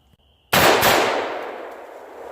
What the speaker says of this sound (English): So, I'm going to try a couple more shots without it.